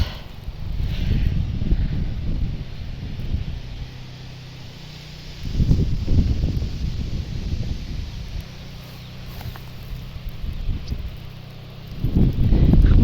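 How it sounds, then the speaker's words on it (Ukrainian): Strong wind gusts buffet the microphone outdoors in a vegetable garden, swelling into loud low rumbling bursts then easing, with leaves rustling in between. "Ой, вітер у нас."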